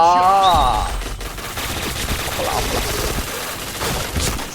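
Rapid bursts of APC9 submachine gun fire in a battle video game, loud and close, with a short spoken exclamation near the start.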